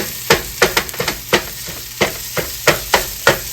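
Crumbled meat is stirred and browned in a hot frying pan, with steady sizzling broken by a regular series of sharp scraping strokes from the spatula, close up and with no voices.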